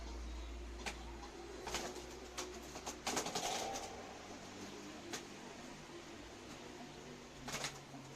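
Pigeons scuffle in a flock, with several sharp bursts of wingbeats and flapping over a steady low hum, and soft cooing in between.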